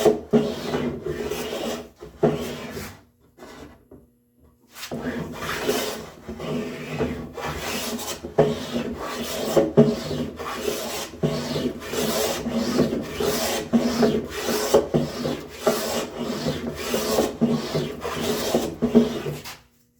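Repeated rasping strokes of a coarse hand tool taking thick shavings off a walnut board, a rhythmic series of scraping passes with a brief pause early on, close and clear with no talking.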